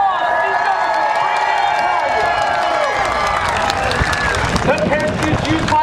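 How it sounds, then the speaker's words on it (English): A large outdoor crowd claps and cheers for Golden Knights parachute jumpers descending at an 82nd Airborne Division review. The applause is a steady wash under a loud announcer's voice. "Give a big 80-second round of applause for these"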